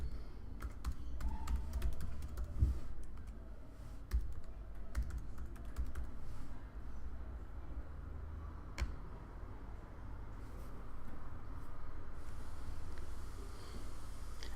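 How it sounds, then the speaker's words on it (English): Someone types an email and password on a computer keyboard, a steady run of light key clicks with a few louder taps, close and alone without any talk. "Then you're going to type in your email and password."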